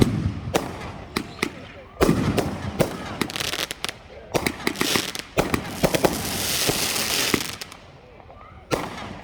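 Fireworks from a New Year's Eve show in Thibodaux burst in rapid, irregular volleys of sharp loud bangs and crackles, with a few deeper booms spread through the span and faint crowd reactions between blasts.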